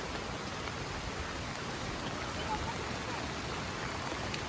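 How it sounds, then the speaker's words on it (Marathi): Steady rain falls in the Konkan countryside during the morning, a dense even hiss with no breaks, soft and continuous. "सकाळी पण पाऊस आहे नुसता पाऊस"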